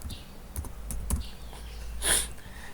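A computer keyboard being typed on at a terminal, a few separate key clicks and then a brief louder burst of strokes, close and quiet against low background hum.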